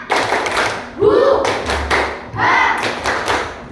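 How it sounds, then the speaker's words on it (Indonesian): Schoolchildren in a classroom perform a rhythmic clapping cheer, with sharp hand claps and thumps in a steady pattern and voices chanting along. "Ayo, tepuk semangat."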